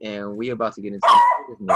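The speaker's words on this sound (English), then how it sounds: "Yeah, that's my dog." A dog barks once or twice indoors during a casual talk show, the sharp yelps overlapping with a man's ongoing speech.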